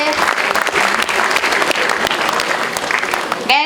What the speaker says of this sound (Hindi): तो एक जोरदार तालियों से आप लोग उनका स्वागत करें स्टेज पे।